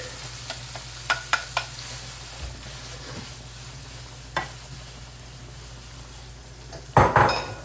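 Shallot and garlic fry in a pan with a steady low sizzle, punctuated by a few sharp clinks of utensils against the pan and a louder clatter of stirring near the end.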